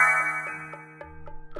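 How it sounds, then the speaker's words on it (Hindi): An incoming call sets a phone ringing with a tonal ringtone melody, repeating short chiming pulses in a steady rhythm, moderately loud with no talk. "तभी अविनाश की माँ का फोन आता है।"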